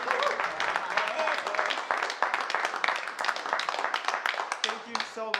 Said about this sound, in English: Got me clapping with y'all